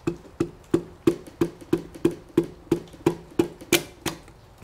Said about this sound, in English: We just wanna take the butt of our hammer and tap it in.